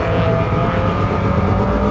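A historic Group N under-2-litre touring car's engine drones steadily nearby during a race, a continuous low mechanical roar with a slight whine, no speech.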